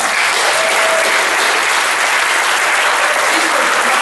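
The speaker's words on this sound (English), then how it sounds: "Let's give them another round of applause." Church congregation applauding a team standing for recognition, dense sustained clapping that fills the room evenly from start to finish.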